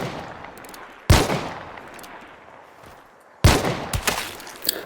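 Two loud, close rifle shots from a Lamat carbine in the video game Hunt: Showdown 1896, each cracking sharply and ringing out into a long decaying tail, about two and a half seconds apart.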